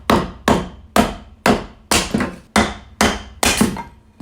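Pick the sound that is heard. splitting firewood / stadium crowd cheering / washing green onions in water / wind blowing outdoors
splitting firewood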